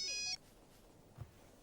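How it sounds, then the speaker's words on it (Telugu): A mobile phone ringtone plays as a short bright electronic melody of repeated tones for about a third of a second, then cuts off into quiet room noise with a faint low thump. "ఫోన్ మీకే వచ్చింది."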